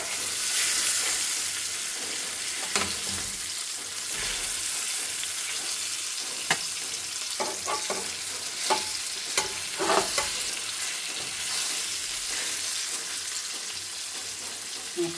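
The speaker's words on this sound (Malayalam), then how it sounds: "നല്ല ക്രിസ്പിയായിട്ട് പൊരിഞ്ഞ് വന്നിട്ടുണ്ട് കേട്ടോ" Semolina-crusted red snapper frying in a pan, giving a steady close sizzle with scattered crackles and pops and occasional scrapes from stirring or turning the fish, with no talking.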